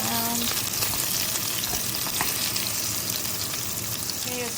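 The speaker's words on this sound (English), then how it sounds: "Now, as I stir fried it, and it's slowly melting away and caramelizing and coating also the pork as well" Pork belly and melting rock sugar stir-fry in a pan, a loud close crackling sizzle broken by the scrape and clatter of stirring, with no one speaking.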